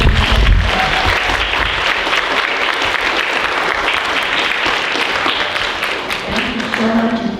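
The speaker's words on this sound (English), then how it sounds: "Big round of applause for all of them." Loud, continuous applause fills a school's fifth grade celebration as an audience claps for award recipients, a dense, even roar of many hands lasting several seconds with a few low thumps at the start.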